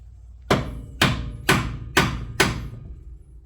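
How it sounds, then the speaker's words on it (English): A flathead screwdriver is tapped into a crease on a Can-Am X3 steering part: five sharp, evenly spaced metallic knocks about half a second apart, loud and close, each ringing briefly. "I'm just gonna tap a flathead in there."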